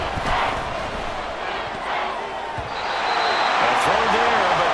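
Dense, steady roar of the Arrowhead Stadium home crowd in Madden NFL 24 during a third-and-goal play, loud throughout and swelling slightly toward the end.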